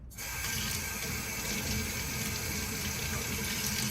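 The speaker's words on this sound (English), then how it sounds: "we open the faucet and then using our fingers we scrub all the dirt away" Water runs steadily from a faucet while vegetables such as celery are washed, a constant, close hiss with no break and no talk over it.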